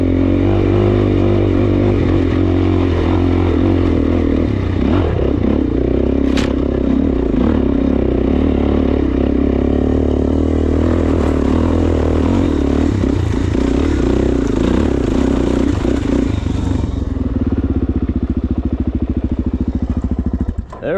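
A Suzuki DRZ400S dirt bike climbs a desert hill in second gear, its engine droning loud and close for about twenty seconds. Gravel clatters and scrapes under the tires, and a voice talks briefly over the engine.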